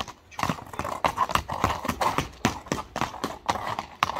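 Horse hooves clip-clop in a steady, close rhythm of sharp repeated strikes with no talk over them, as horses are shown off for sale.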